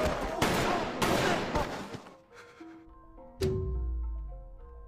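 Gunfire from a mass execution in Squid Game episode 2 after players break their honeycomb candy shapes: dense bursts of rapid shots in the first two seconds, then a single loud crack at about three and a half seconds over a low rumble.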